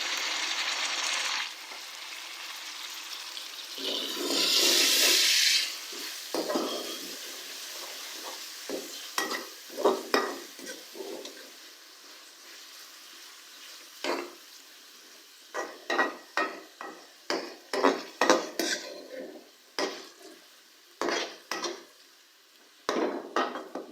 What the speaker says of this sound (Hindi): टमाटरों को अच्छी तरह से मिक्स करेंगे।